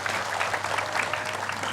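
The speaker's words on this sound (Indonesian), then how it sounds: "tepuk tangan" A studio audience at an Indonesian religious television program breaks into applause, a full, even roar of many hands clapping, moderately loud and unbroken, with a low steady hum beneath and no voices.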